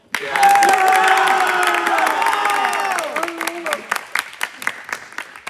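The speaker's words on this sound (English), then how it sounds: "let's keep our applause to the minimum here" An audience at a winter sports awards ceremony bursts into cheering and whooping with applause, loud at first with high shouts, then thinning into scattered individual claps.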